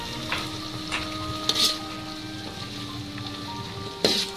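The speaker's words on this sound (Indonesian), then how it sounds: "Tumis hingga semua bahan layu dan harum ya" Shallots and kaffir lime leaves sauté for pecel sauce, a continuous frying sizzle broken by a few sharper spatula clanks, near the microphone and without speech.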